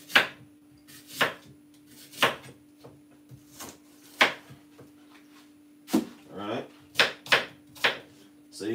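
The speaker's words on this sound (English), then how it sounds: "now what I'm gonna do is cut up my apple" Knife chopping a green apple on a cutting board in a kitchen: a series of sharp, close, irregular knocks spaced about a second apart, with a voice speaking briefly between cuts.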